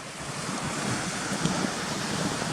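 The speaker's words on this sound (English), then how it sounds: "I think there's another fast moving stream just here as well." Fast whitewater stream tumbling down a series of falls on a hillside near old mine ruins, a steady broadband rush of water with wind buffeting the microphone, continuous and fairly close.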